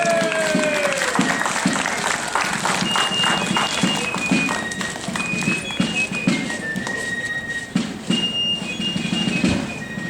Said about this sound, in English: Let's hear a round of applause for them.